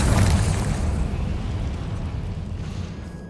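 Confringo spell explosion in Hogwarts Legacy, a loud close burst that booms at the start and then rumbles and decays over about three seconds.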